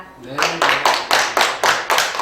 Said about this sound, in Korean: 이런 저에게 박수 부탁드립니다.